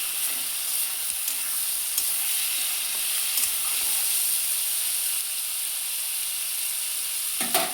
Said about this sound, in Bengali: পেঁয়াজ আর আলু একসাথে ভাজা হয়।